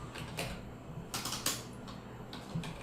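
An address being typed on a computer keyboard while designing a poster in Photoshop: a few quick bursts of close, quiet key clicks separated by short pauses, with no talking.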